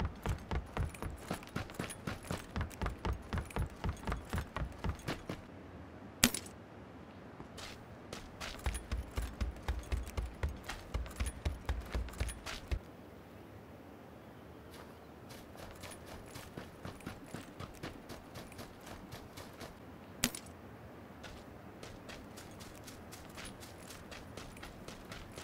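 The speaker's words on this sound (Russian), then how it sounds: "Давайте проведем небольшой тест и послушаем звуки шагов с обувью и без нее." Footsteps of a character in the battle royale game PUBG, first a run of crisp, loud, evenly paced shod steps, then quieter, softer barefoot steps, alternating in rhythmic bursts with brief pauses.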